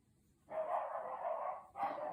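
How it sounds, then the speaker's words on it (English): A dog lets out two drawn-out barks or howling yelps, the first lasting over a second, the second shorter, somewhat muffled as if from another room. "Sorry about the dog."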